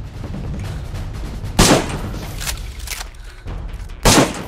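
Two sharp gunshots ring out in the DayZ survival game, about two and a half seconds apart, each a loud broadband crack over a steady low rumble of background noise.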